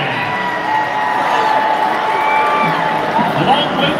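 At a men's college basketball game between SUNY Albany and Siena, an arena crowd cheers and claps in a steady loud wash to welcome the New Albany Spirit Band, with an announcer's voice over it.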